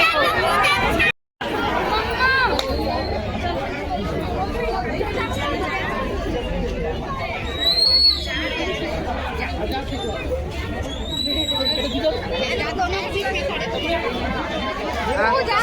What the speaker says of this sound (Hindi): ये साइड देख सकते हो भारी मात्रा में भीड़ बने हुए हैं यहाँ पे